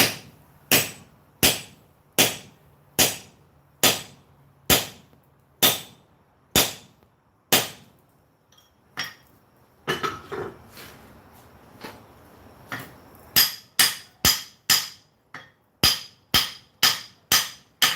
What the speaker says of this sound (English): Yeah, Buck, you recognize this striking anvil?